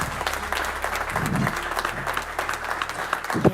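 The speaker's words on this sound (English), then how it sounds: "So a round of applause." Audience at a Euronews summit on EU enlargement applauding steadily for several seconds, a dense even clatter of many hands filling the hall from start to finish.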